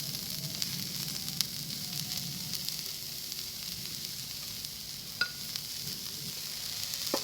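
Finely chopped carrot, onion and capsicum sizzle in a pan as they are stirred, a soft continuous frying hiss with occasional light utensil taps, nobody speaking.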